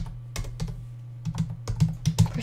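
Quick bursts of keystrokes on a computer keyboard, close and crisp, typed in short irregular clusters with brief pauses between them.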